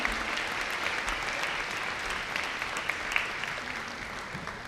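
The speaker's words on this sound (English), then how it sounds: "Graduates, please give your families a big round of applause." A graduation audience claps for the graduates' families, dense sustained applause from a large crowd, held at an even level from start to finish.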